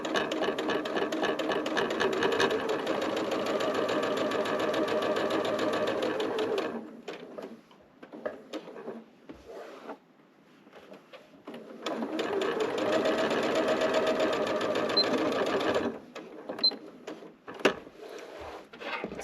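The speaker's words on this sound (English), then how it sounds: "So this sewing machine that I'm using is, I just love this sewing machine." Two long runs of rapid, steady mechanical stitching from a sewing machine, separated by a quieter pause with small clicks and handling sounds.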